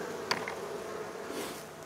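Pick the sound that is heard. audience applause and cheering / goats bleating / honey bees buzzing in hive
honey bees buzzing in hive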